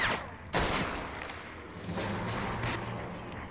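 Gunfire in Medal of Honor: Vanguard: a loud sharp shot lands early, followed by further scattered shots and battle noise through a busy mix.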